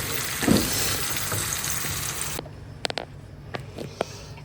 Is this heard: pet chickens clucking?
no